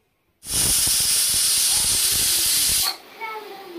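A pressure cooker of bisibele bath on a gas stove lets out a single loud, steady steam whistle hiss for about two and a half seconds, then cuts off abruptly into quieter hissing.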